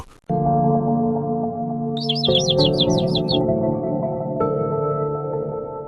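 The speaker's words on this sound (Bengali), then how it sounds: "একটি ছোট্ট বনে অনেক পাখি বসবাস করত তাদের কিচিরমিচির আওয়াজে বনের পরিবেশ মনোমুগ্ধকর হয়ে উঠত" Small birds in a forest scene of an animated story chirp in a quick series of high, bright tweets, heard for about a second and a half over steady background music.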